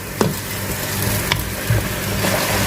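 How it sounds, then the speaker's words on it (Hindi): Masala and yogurt fry in a pot of oil for Sindhi biryani, a steady close sizzle with occasional stirring scrapes and small spattering pops throughout. "इसे मैं मज़ीद 5 मिनट और भूनूंगी दरमियानी आंच पर"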